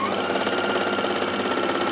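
A Juki HZL-NX7 sewing machine stitches fabric at steady speed, a fast even whirring hum with rapid rhythmic needle clatter, close and continuous with no talk.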